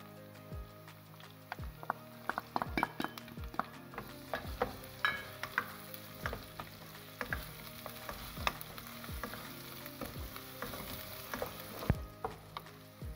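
Crushed garlic and ginger fry in a pan for a mixed greens saag, a quiet sizzle broken by frequent sharp scrapes and taps of a spoon stirring against the pan.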